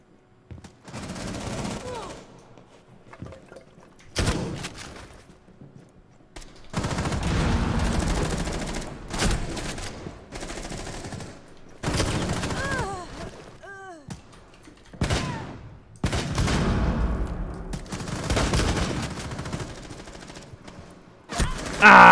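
Shotgun fire in Rainbow Six Siege team deathmatch: loud, heavy blasts repeat in irregular bursts across the match, mixed with game effects and someone talking over the action.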